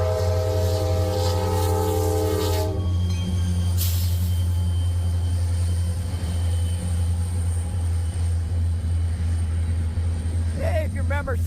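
A Wheeling and Lake Erie freight locomotive rumbles past at close range with a loud, steady low drone, a horn-like tone early on, and someone talking nearby.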